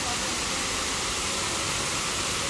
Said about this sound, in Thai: โอ้น้ำตกสวยมาก น้ำตกสวยมากเลยสวยมาก